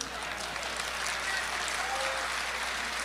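Audience applause at a mushaira poetry gathering, a steady wash of many hands clapping for about three seconds, moderately loud and even, with faint voices beneath.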